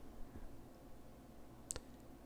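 A single soft computer mouse click lands near the end of an otherwise quiet, faint stretch of room tone.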